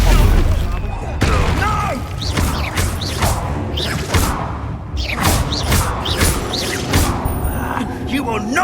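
Confringo fire spell explosions in the video game Hogwarts Legacy: repeated loud booming blasts with whooshing bursts mixed with spell and combat effects, coming in a steady rapid series under a dense, continuous game mix.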